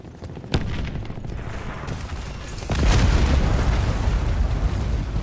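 Gunfire in Call of Duty: Black Ops 4, a sharp shot followed by a continuous loud burst of rapid fire and booming blasts that swells and keeps going, close and dense.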